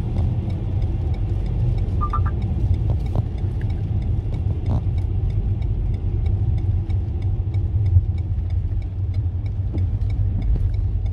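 A Renault car built 2015–2020 accelerating under adaptive cruise control, a steady low engine hum and road rumble from inside the cabin, constant and moderately loud with no talking.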